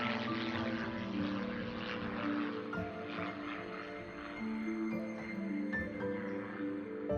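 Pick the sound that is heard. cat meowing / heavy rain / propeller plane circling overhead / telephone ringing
propeller plane circling overhead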